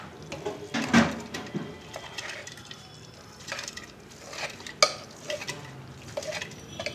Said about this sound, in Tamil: இந்த இதில் காய்ச்சி வச்சுருக்க பாலை சேர்த்துப்போம்